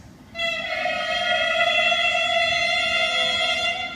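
A student's clarinet mouthpiece and barrel, taken off the instrument, blown into one long, steady, loud honk with a strong nasal tone and bright overtones, sustained alone for several seconds after a short silent start.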